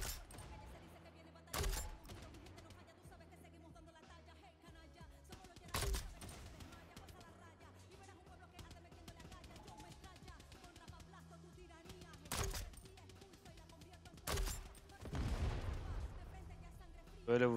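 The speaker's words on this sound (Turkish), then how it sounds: "Bu bomba atıyor kanka." Far Cry 6 combat rings out with gunfire bursts and bomb blasts from enemy soldiers, several sharp loud reports spaced across a quieter bed of music while players chat.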